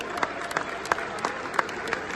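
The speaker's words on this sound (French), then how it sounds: "Merci pour eux, on applaudit les bénévoles." An audience at a world equestrian championship event applauds its volunteers with a steady patter of clapping from a crowd at some distance, with a few sharper individual claps standing out over the background.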